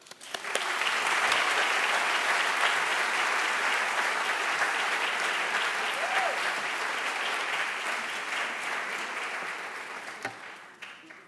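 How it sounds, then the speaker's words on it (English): Sustained applause from a large audience at a university event, steady and full for several seconds before slowly tapering off at the end. "A round of applause, please, for them and you"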